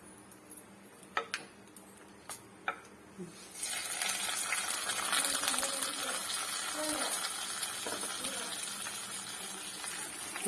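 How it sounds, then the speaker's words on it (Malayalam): Hot tempering of oil with popped mustard seeds, red chilli and curry leaves goes into beetroot pachadi: a few clinks of utensils, then a sudden loud, hissing sizzle that continues steadily and close. "ഇനി നമ്മുടെ പച്ചടിക്ക് അകത്തോട്ട് ഒഴിക്കാം."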